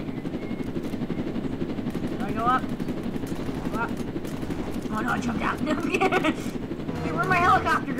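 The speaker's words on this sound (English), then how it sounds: "They're shooting us down." Gunfire in a Roblox game as players shoot down a vehicle, with a steady helicopter-like engine drone underneath, bursts of shots, and excited voices talking over the action.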